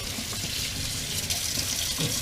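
Tap water runs steadily into a kitchen sink during dish washing, a continuous close hiss and splash with faint clinks underneath, no voices.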